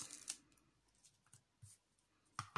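Scissors snip paper for a Halloween shaker card, a few short, faint cuts spaced apart in a quiet room, with a sharper pair of snips at the end.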